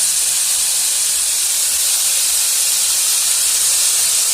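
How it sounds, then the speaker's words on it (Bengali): Vegetables and chopped onion fry in a pan for egg chow mein, making a loud, steady, dense hiss that fills the whole stretch without a break and with no talking over it. "সবজিটা কিছুটা ভেজে এসেছে, এবার দিয়ে দেব পেঁয়াজ কুচি।"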